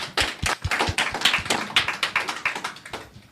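Audience applause at a book talk on hip hop in Africa: dense, steady clapping from a room full of people, sustained for about three seconds without a break and with no talking over it.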